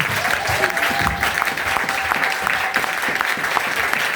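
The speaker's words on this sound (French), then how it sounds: "Acclame un peu." Church congregation clapping steadily through a prayer service, dense continuous applause with a faint sustained tone running beneath it.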